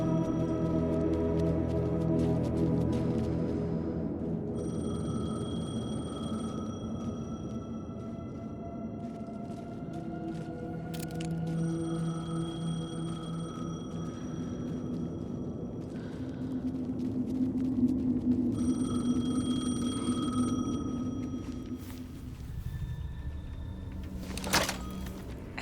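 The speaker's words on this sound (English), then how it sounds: "phone was ringing." A telephone rings in Alan Wake 2, its bright electronic tone returning in a few spaced bursts over a deep, droning ambient background, with no voices.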